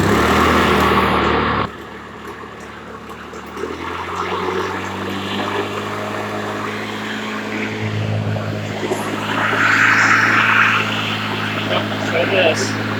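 An old Toro bagger lawn mower engine is pull-started, then settles into a steady buzzing drone with rising and falling pitch while someone talks over it.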